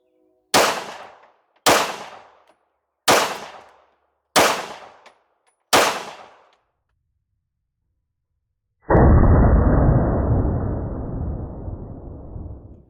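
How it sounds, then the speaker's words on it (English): A handgun fires 30 Super Carry rounds at an outdoor range: five sharp, loud shots spaced about a second apart, then a pause and a long, muffled noise burst that slowly fades. "let's swap things out and get some rounds downrange with that 30 Super Carry."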